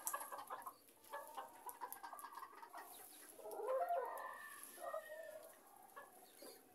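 Hens cluck and chatter in short, irregular bursts as they are let out of their coop. Several birds are close, their calls overlapping, with a louder flurry midway.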